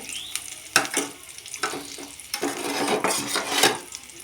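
Ground coriander, cumin and dried chilli paste sizzle in hot oil in a pan, with repeated scraping strokes of stirring over a steady, close frying hiss.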